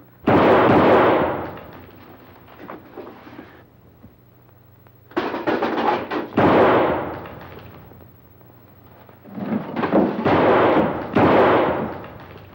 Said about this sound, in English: That's a .38 caliber belly gun you got there, Hanson. It's a 6-shooter. And you fired your last shot.